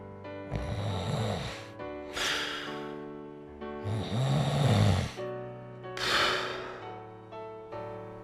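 An old man snores loudly and alone, four long rasping breaths with deep rattling inhales and softer exhales, steady and close in a quiet room.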